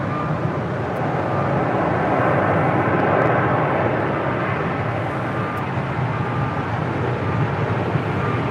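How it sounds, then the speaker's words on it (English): An American Airlines Boeing 787-8 Dreamliner from Miami on short final for runway 25 left at Los Angeles airport makes a loud, sustained broadband engine rush that swells slightly midway and continues alone. "American Dreamliner now in short funnel for 25 left"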